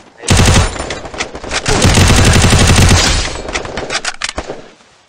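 Desert Eagle gunfire in a battle royale mobile video game. Loud, dense volleys of rapid shots crackle almost continuously for several seconds before tapering into scattered single reports.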